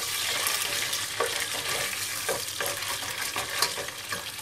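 Pepper and tomato paste being stirred in a pot for tarhana soup, giving a steady close sizzle with soft intermittent scraping of the spoon, and no voices.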